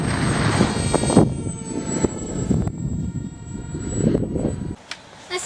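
A remote-controlled Eurofighter Typhoon model plane with counter-rotating propellers flies in high winds. Its motor whines steadily and changes pitch over wind noise, then cuts out briefly near the end.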